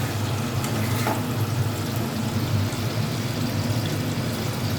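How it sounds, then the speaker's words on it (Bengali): Potatoes and tomatoes fry in a pan for a vegetarian stalk-and-potato poppy seed dish, producing a soft, steady sizzle with a few faint stirring scrapes, heard alone and fairly quiet. "এরপর আমি আলুগুলো ভেজে নেব।"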